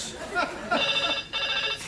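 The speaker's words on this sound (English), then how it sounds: "Phone rang once," A telephone rings in a comedy sketch, with short repeated electronic trills heard close and clear while someone talks over them.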